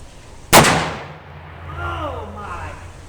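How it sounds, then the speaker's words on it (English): A single sharp, very loud blast from a Smith & Wesson 500 Magnum revolver, followed by a short decaying echo and a voice reacting afterward. "First shot with the 500 Magnum."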